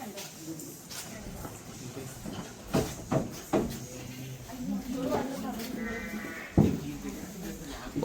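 Sheep bleat on a farm in a Netherlands village, with a few short, scattered calls rising over background noise while people talk nearby.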